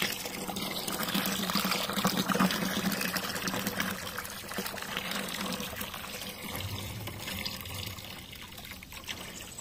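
Rainwater trickles and pours steadily into a container during a typhoon-strength downpour, a continuous close splashing wash that holds for the whole stretch with no talking.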